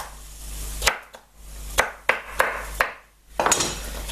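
A few knife chops on a board as something is cut up during lamb shank cooking, irregular sharp knocks spaced about a second apart, close and fairly clear over low kitchen hum.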